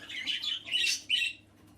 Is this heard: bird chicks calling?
yes